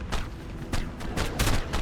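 Gunfire from the ARK Survival Evolved video game, a rapid series of sharp shots in uneven bursts over a dense, rumbling background, loud and close with no talking.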